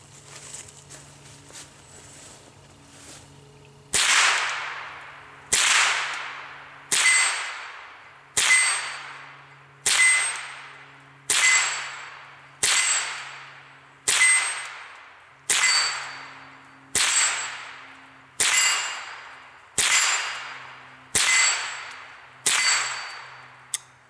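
A Winchester Model 74 rifle fires shot after shot at an 8-inch steel plate 25 yards away. About fourteen evenly spaced impacts each ring out with a bright clang and a fading metallic tail, all loud and with no talking.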